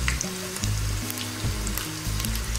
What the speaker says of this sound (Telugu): ఇలా ముక్కలన్నీ కూడా ఫ్రై చేసేసుకుని పెట్టుకుందాం.